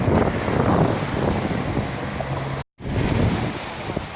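Steady roar of big ocean waves breaking on shore, broad and continuous with wind buffeting the microphone; a brief dropout of silence interrupts it partway through.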